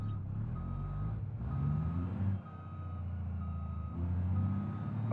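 Steady electronic reversing beeps from a truck backing up in BeamNG.drive's Utah setting, a regular repeating tone over a continuous low engine rumble, with no voices.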